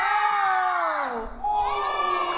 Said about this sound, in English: let's hear the shouts for who you think won